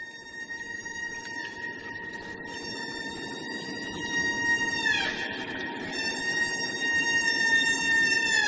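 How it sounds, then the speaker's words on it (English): A whale vocalization captured with low-vibration instruments, a loud, sustained tonal call with steady harmonics that dips and then rises in pitch, heard alone over a low background rumble. "whale makes a kind of sound to communicate with another whale."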